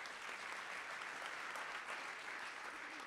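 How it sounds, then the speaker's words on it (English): An audience claps for a group of supporters in a large hall, a faint, even roar of many hands heard from a distance, continuous and unbroken. "So let's give them a round of applause."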